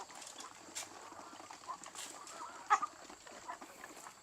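Black Australorp chickens in a breeding pen, a low steady murmur of clucks and rustling with one brief louder squawk midway, no talking.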